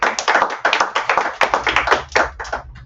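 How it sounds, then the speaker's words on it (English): Dense, continuous applause from a meeting audience, many pairs of hands clapping quickly and steadily at close range for about three seconds, with no voices over it. "Let's give ourselves a big round of applause."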